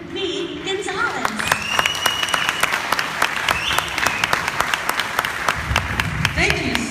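A comedy club crowd claps and cheers to welcome a comedian to the stage, loud sustained applause with sharp individual claps throughout, while a voice talks over it at the start and end.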